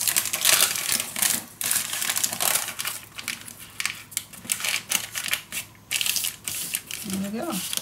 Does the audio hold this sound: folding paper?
yes